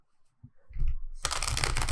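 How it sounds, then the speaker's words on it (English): Tarot cards shuffled close up: a few soft handling taps, then a loud, dense riffling burst that continues to the end. "let's do a quick shuffle for Cancer"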